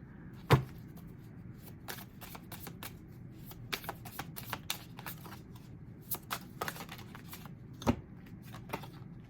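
Tarot cards shuffled by hand in a quiet room, a run of soft, quick riffling flicks and taps spread unevenly across the stretch, with two sharper snaps standing out, no talk over it.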